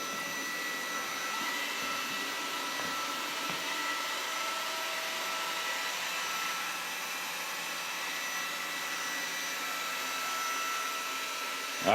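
Dreame Z10 Pro self-emptying robot vacuum cleaning the floor, a steady, moderately loud motor whir with a constant tone and slight fluctuations as it moves, heard alone without talking.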